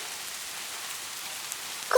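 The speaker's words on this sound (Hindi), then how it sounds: "बारिश बहुत तेज चलती रही।" Heavy cartoon rain pours down as a steady, dense hiss with no letup, with no voices and only a brief small blip at the very end.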